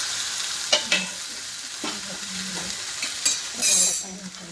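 Oats uttapam frying in a pan with the lid off after being flipped, giving a steady soft sizzle with a few brief clinks and scrapes of a spatula close by, no talk.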